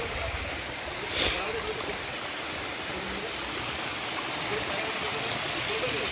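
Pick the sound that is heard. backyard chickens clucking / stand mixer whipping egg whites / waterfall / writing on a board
waterfall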